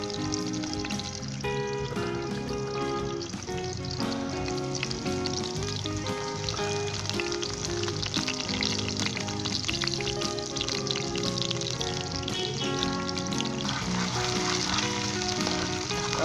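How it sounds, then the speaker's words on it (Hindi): Onion, ginger and garlic sizzle and crackle in vegetable oil in a pan, with a continuous, busy frying hiss and occasional stirring clatter throughout. "और प्याज, अदरक लहसुन भी शामिल कर देंगे और 2 से 3 मिनट के लिए हम इसको फ्राई करेंगे"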